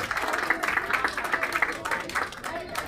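Audience applause rises at an outdoor World Disability Day commemoration ceremony in the Plaza de Armas of Los Ángeles, a dense steady patter of clapping with a voice over it.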